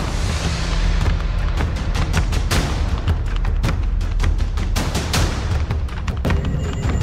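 Supporters firing guns in celebration at a rally in Barahiya, Bihar, a rapid series of loud sharp bangs, some overlapping, over crowd noise.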